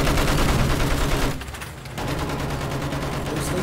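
Dense rapid gunfire in Battlefield 1 hammers out in loud sustained bursts, pauses briefly, then resumes in another continuous volley.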